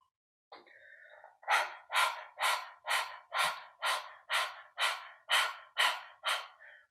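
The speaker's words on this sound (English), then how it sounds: "doing panting like a dog. This is the warm up to the breath of fire." Open-mouthed dog-like panting done as a yoga warm-up for breath of fire: one long breath, then a steady run of about ten loud, even, rhythmic pants, close and with no talk.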